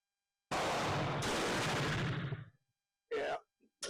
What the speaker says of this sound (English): Looks like I'm trying to shoot a hole in the target.